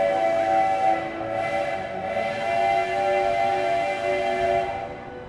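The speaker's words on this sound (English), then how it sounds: "Wow, the train is loud." A train at Walt Disney World sounds a loud, sustained tonal horn or whistle over steady rolling rumble, close and continuous for several seconds.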